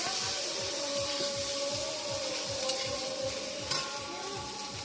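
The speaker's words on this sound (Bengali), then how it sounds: "সবাই নাড়ছে।" Aloo bhindi curry with tomato, ginger and garlic is stirred in a hot pan, a steady rhythmic scraping of a spoon against the metal over a continuous frying sizzle, close and alone.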